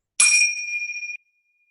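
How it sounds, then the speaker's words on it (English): Small bells rung to close a children's yoga class, one bright metallic strike with a shimmering ring that pulses and decays for about a second before cutting off, clear and alone. "Miss Avery's going to ring our bells to end class"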